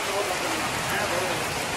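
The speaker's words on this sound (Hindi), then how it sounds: "बहुत ही तेज़ बारिश लगी है" Heavy rain in a Neelum Valley village pours down in a dense, steady hiss with no breaks, loud and close throughout.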